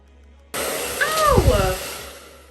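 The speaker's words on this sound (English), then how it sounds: "I'm just gonna blow dry this bit down" A hair blow dryer switches on abruptly and roars steadily up close while drying a wig. A brief vocal sound rises and falls in the middle of the rush of air.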